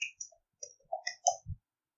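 Light, quick clicks from a computer keyboard as a short word is typed, a handful of separate taps with a soft thump at the end, close and quiet with no talking.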